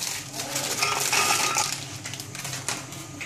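Biscuits tumble into a grinder jar, a short run of dry, clattering rattles and light crunchy clinks, close and moderately loud, with no talk over it.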